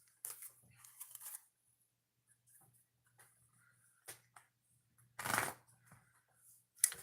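A deck of tarot cards being shuffled by hand in a few quiet bursts of riffling and sliding, with one louder flurry near the end, separated by near silence.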